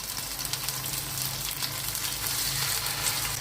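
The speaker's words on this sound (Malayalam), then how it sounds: "നമ്മൾ പുരട്ടി വെച്ച കരിമീനൊന്ന് ചെറുതായിട്ടൊന്ന് മറിച്ചിടുകയാണേ" Pearl spot fish (karimeen) fries in coconut oil in a pan, a close, continuous, even sizzle with no voices.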